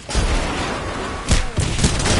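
Rapid gunfire bursts and booming blasts crackle in a team-based video game shooter, dense and loud with a heavier impact midway, and no voices come through.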